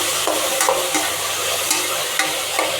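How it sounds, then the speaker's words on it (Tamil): Vegetables, turmeric, salt and chopped tomatoes frying in a pan for a vegetable kurma, a steady close sizzle with the soft scrape and shuffle of a spoon stirring through them, no talking. "இதுலேயே வந்துங்க 1/4 டீஸ்பூன் மஞ்சள்தூள், 1 ஸ்பூன் உப்பு, நறுக்கி எடுத்த 2 தக்காளி, இதை எல்லாத்தையும் நல்லா கலந்து விட்டுக்குங்க."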